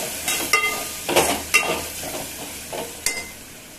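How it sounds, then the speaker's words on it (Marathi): Turmeric and homemade black masala fry in oil for an urad dal amti, with a light close sizzle broken by several sharp spoon scrapes and taps as the spices are stirred. "बघा, आपले मसाले छान असे फ्राय झालेले आहे आणि छान त्याला तेलही सुटलेलं आहे."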